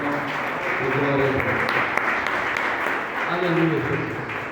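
Church congregation applauding to glorify God, a broad wash of clapping running the whole time under a voice speaking over it.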